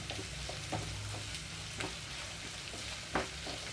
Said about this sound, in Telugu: ఇప్పుడు ఆల్రెడీ కలిపి పెట్టుకున్న కాకరకాయ ముక్కలన్నీ ఇందులోకి వేస్తున్నాను